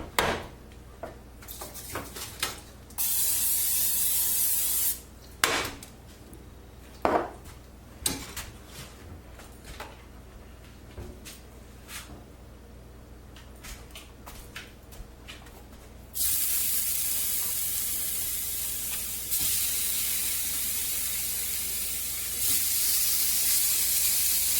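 Seasoned fish fries in a hot nonstick pan, giving bursts of loud hissing sizzle that start and stop, then settle into a steady spitting crackle, close and with no talking.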